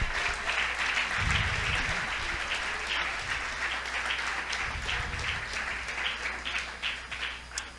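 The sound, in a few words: audience applause for God in church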